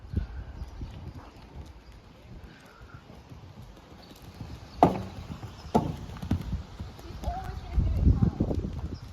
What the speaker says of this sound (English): I don't want to hear the sound of wood on hoof.